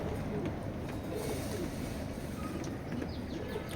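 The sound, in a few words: pigeons cooing in a racing pigeon loft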